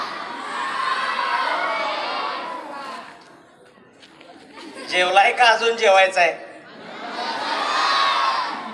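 A large crowd of schoolchildren shouts and cheers loudly at a school event, with a roaring swell at the start and another at the end; an adult speaks over a microphone in the quieter middle.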